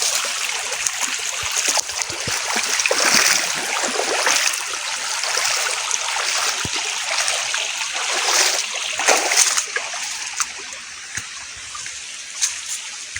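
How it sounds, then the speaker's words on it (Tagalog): A river current flows steadily nearby, a continuous rushing and splashing wash of water that swells slightly at moments, with no voices over it. "naririnig ko na yung agos"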